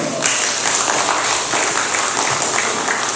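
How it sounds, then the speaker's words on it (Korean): Audience applause at a civic ceremony and awards event in Ansan, steady clapping from a crowd filling the hall without pause. "박수 한번 부탁드릴게요"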